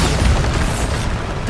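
A Bombarda explosion spell goes off in Hogwarts Legacy as a loud, close, broad rumbling blast that fills the whole moment.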